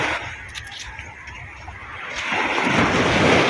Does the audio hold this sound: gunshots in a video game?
no